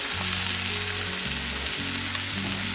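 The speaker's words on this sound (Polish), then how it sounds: "I chwileczkę podsmażę i dodam czosnek" Small mushrooms fry in butter in a pan: a loud, continuous sizzle over a steady low mechanical hum, with no talking.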